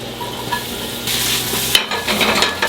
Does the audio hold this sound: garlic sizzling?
yes